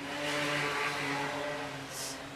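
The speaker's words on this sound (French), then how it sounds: "il m'énerve ces motos, c'est pas possible" Motorcycles drone past with a steady whining engine tone that swells and fades, loud and close.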